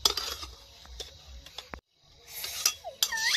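Potato dish being poured and scraped out of a pan in a home kitchen, with several clinking metal scrapes and taps, a short silent gap, then more clattering of utensil against cookware close by.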